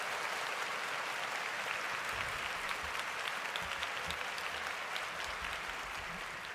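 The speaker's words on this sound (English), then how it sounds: "Get that man a round of applause." Sustained applause from a large football stadium crowd at a Denver Broncos versus 49ers preseason game, a dense steady roar of clapping lasting throughout with no speech over it.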